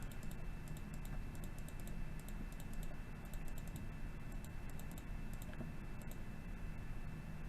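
Steady bursts of keystrokes on a computer keyboard while entering values into Civil 3D software, light rapid clicks repeating in clusters over a constant low hum.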